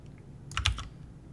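A brief, quiet burst of three or four keystrokes on a computer keyboard, clustered together in a near-silent room.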